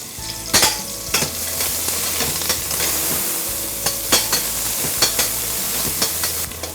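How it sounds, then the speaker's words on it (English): Onions frying to golden brown in a pan for Rajasthani laal maas, a loud continuous sizzle and crackle with a few sharp spoon scrapes and clinks against the pan, close up, no speech. "Let these onions cook properly, let them turn golden brown."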